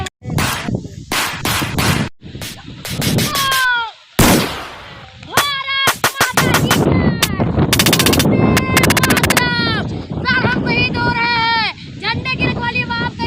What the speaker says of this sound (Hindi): तुम भी छिप कर गोली चलाओ।